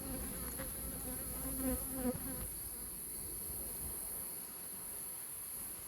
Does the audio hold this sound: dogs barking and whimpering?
no